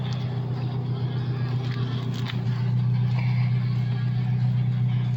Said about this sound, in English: the exhaust, which sounds pretty much like it's open right now